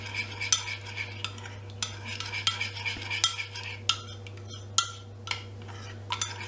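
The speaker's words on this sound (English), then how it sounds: "give it a little stir in" A spoon stirs flavour drops into a chocolate drink, tapping and clinking against the cup in a series of light, bright strikes over a steady low hum, close up, no voices.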